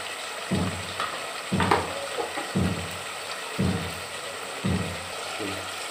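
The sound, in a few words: spices frying in pan with turmeric powder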